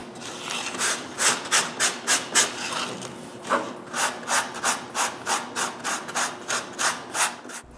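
A wooden postage stamp with a beaver carving is sanded by hand, giving steady back-and-forth rasping strokes, about fifteen close, even rubs in a regular rhythm with a short pause partway through.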